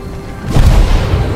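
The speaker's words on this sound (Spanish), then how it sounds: "Una explosión de energía." An energy explosion in the video game The Gunk hits as a deep, booming burst that swells in after a faint hum and rumbles loudly through the low end for about a second.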